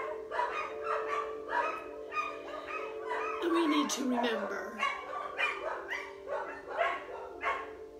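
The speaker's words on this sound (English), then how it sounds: "Even the dogs are excited about it." Several dogs bark and yip excitedly over and over while a person speaks steadily on top of them, with the barks sometimes drowning out the talk.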